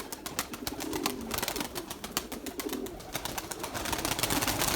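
Erzurum white pigeons coo in a loud, busy chorus close by, with rapid wing flaps and fluttering bursts throughout and no talking.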